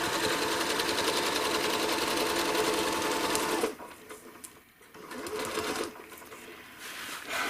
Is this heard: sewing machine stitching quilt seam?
yes